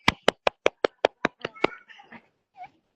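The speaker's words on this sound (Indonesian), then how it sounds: "Tepuk tangan untuk Erika Putri Kirana." Roughly ten sharp, evenly spaced claps ring out close and clear in a classroom after a student's presentation, then trail off into a few softer scattered sounds and brief voices.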